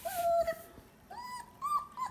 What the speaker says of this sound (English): these baby pups are whining like a mother out there